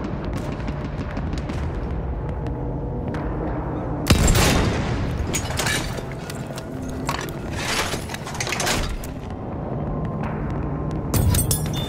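Battlefield 1 gunfire and explosions: a sudden loud blast lands near the midpoint, followed by scattered sharp reports and rumbling booms across a dense, noisy battle bed, with another burst of cracks near the end.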